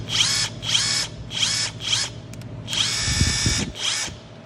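Klein cordless impact driver running in short bursts, six trigger pulls of about half a second each with one longer run, a loud whirring motor whine and hammering, close up with no talking.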